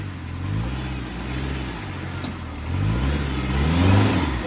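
A Land Rover Discovery 1 stuck in a river revs its engine loudly and close, a mid-pitched roar climbing and falling through a few rising pulls with no voices.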